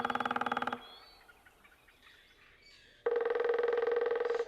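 A woodpecker calls in two bursts of rapid, buzzy, pulsed notes: one at the start, then a louder, longer run near the end. Faint bird chirps fill the quieter gap between them.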